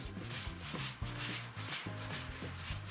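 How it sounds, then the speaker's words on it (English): Sanding paste on a turned fir bowl is buffed with an abrasive, making a continuous close rubbing hiss with a faint rhythmic pulse as it spins. "I'll put it on and then buff it off to let the abrasive do the cutting"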